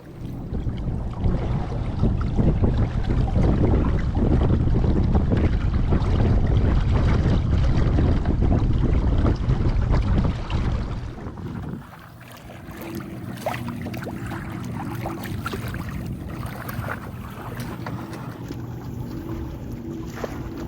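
A sailing dinghy cuts through water in the wind, with steady broadband rush of wind and hull noise that drops at midpoint to a quieter, lighter wash with faint tonal hum; no talking.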